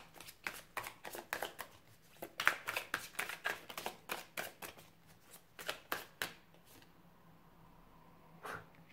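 Witches' tarot cards being shuffled by hand, a quick run of crisp riffling slaps and flutters close by, then a brief pause and one last flick near the end.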